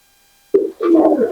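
Pakistani pigeons in their loft give a short burst of soft, close cooing, with a brief call followed by a longer, throaty warble after a moment of silence.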